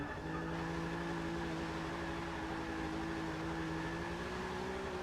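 Rolls Royce V12 engine in Forza 6, a steady droning hum with held tonal notes at constant revs, smooth and continuous like a vacuum cleaner, with no voices.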